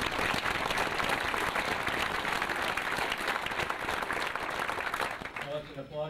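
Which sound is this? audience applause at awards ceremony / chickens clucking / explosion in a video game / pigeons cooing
audience applause at awards ceremony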